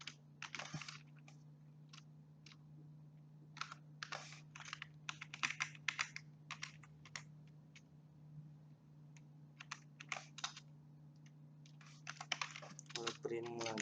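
Computer keyboard keys clatter in irregular bursts of clicks while code is typed, with pauses between runs, over a steady low electrical hum; close and fairly quiet.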